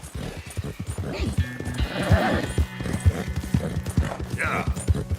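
Horse hooves clip-clop steadily in Red Dead Redemption II, a rhythmic string of close, even hoofbeats with a whinny partway through, under someone talking.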